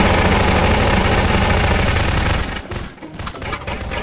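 Gunfire in Garry's Mod: a loud, dense burst of rapid automatic shots rattles without pause for a couple of seconds, then thins to quieter, more distant firing.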